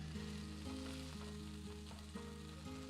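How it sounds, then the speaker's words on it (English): Black sea bass fries in a pan after being flipped, giving a close, continuous sizzle and crackle over a low tonal hum, with no voices. "We're gonna flip our fish over at this point."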